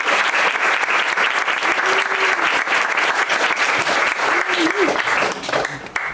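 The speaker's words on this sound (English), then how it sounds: "can we give a round of applause for these women?" An audience at a literary reading of North Korean stories applauds the authors with loud, sustained clapping from a full room. It holds steady throughout and fades slightly at the close.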